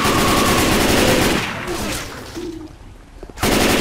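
Rapid bursts of loud gunfire in Left 4 Dead 2, a dense volley that fades into a quieter stretch before another loud burst returns at the end.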